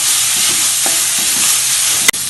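Capsicum (bell pepper) stirred and sautéed in a pan with carrot for a vegetable egg omelette, a steady soft sizzle with light stirring scrapes, close and continuous, ending in a sharp clack of a utensil.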